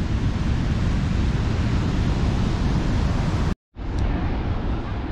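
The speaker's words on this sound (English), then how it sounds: "Back out into the waves." Ocean waves breaking at Praia do Norte in Nazaré, a steady loud roar of surf mixed with heavy wind buffeting the microphone, cut off by a brief gap near the end before resuming.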